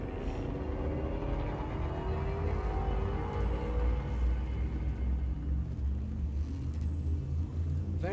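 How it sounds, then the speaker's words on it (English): A spaceship's frame shift drive charges in the Elite Dangerous game, a deep steady rumble with rising tonal sweeps that swell over several seconds, sounding continuous and fairly loud with no talking. "Frameshift drive charging."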